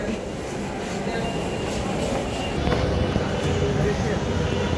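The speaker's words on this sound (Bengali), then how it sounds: "ঢাকা মতিঝিল থেকে ছেড়ে আসা মেট্রো রেল এই মুহূর্তে অবস্থান নিচ্ছেন" A Dhaka metro rail train from Motijheel pulls into Uttara North station, giving off a steady, loud rumble and hum that swells slightly toward the end, with indistinct voices mixed into the noise.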